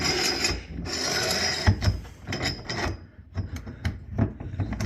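Metal nut with a ring being turned up a general water pipe column, giving irregular ratcheting clicks and grinding scrapes at close range, with louder knocks spaced through the turning and no talk.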